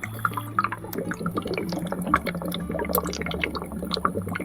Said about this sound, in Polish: Te bulgotanie jest dosyć słyszalne w całym mieszkaniu nocą.